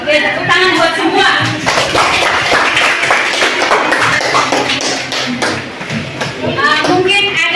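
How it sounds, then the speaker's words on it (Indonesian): Schoolchildren applauding in a classroom, a steady ragged burst of many small hands clapping close by, mixed with children's voices. "Oke, tepuk tangan buat semua."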